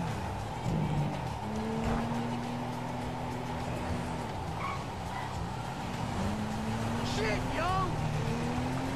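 A James Bond-style 007 car drives in GTA V on PS3, its engine droning steadily throughout with brief tire noises, while someone talks over it.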